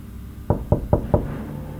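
Police knock on a house door during an eviction: four firm, evenly spaced raps on the door, close and loud, with no voices.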